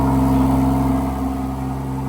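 A 2023 Rolls-Royce Cullinan fitted with a full Capristo exhaust idles steadily with its valves closed, giving a low, smooth, continuous engine hum at close range.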